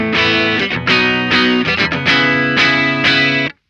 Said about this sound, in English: back to the AMT SS-11 preamp pedal. So right now we're still in the crunch channel, which sounds like this.